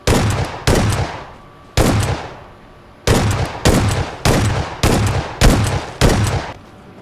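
Shotgun blasts in a shooting video game, about ten loud sharp booms in an irregular rhythm, each with a short decaying tail, alone without talk.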